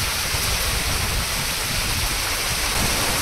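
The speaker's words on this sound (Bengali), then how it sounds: "প্রচুর পরিমাণে বৃষ্টি পড়ছে।" Dense, steady roar of heavy rain pouring down, a constant broadband wash with no pauses or voices.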